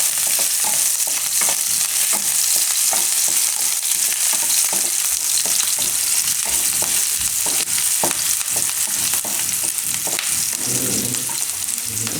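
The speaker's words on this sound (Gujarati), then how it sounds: "એમાં પહેલાં લસણ નાખીશું અને આદું ને લીલા મરચાં. તો થોડીક વાર આને ફેરવી લઈએ." Garlic, ginger and green chilies fry in hot oil, giving a loud, close, continuous sizzle with regular scraping strokes from a spoon stirring them through the pan.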